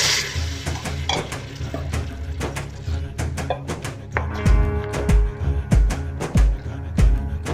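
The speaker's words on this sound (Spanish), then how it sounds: "Ahora agrego un poco caldo de verduras." Vegetable broth goes into a pan of sizzling masala made with turmeric and garam masala, giving a steady fry and hiss along with repeated sharp clinks and scrapes of a utensil against the pan.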